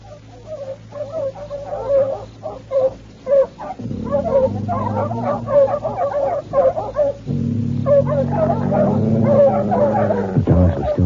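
Dogs bark and whine restlessly in an old radio drama, the yelps and whimpers coming close and fairly loud against a low background hum.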